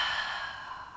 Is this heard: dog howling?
no